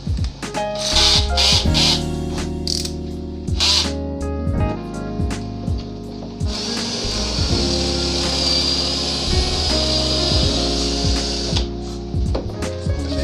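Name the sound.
Lotus 18V cordless impact drill drilling pocket hole in wood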